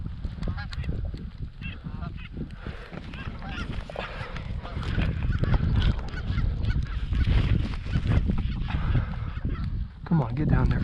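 Canada geese honk loudly and continuously as a flock comes in to land over a field during a rainy Nebraska hunt, calls overlapping thickly and close by.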